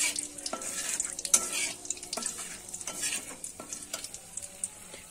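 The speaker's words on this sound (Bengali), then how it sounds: "5 ফোড়নটা দিয়ে কিন্তু একটু নেড়ে চেড়ে নেব।" Panch phoron spices crackle in hot oil while a spoon stirs and scrapes the pan, giving a close, lively sizzle broken by quick uneven clinks and scrapes, no speech.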